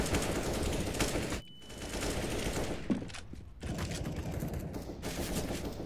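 AK rifle gunfire in a CS:GO duel on Cobblestone: dense, rapid automatic bursts crackling loud and close, broken by a brief gap and then resuming in sustained volleys.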